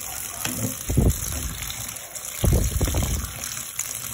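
Cold water poured over freshly cooked macaroni, two separate gushing splashes, close and moderately loud, in a home kitchen.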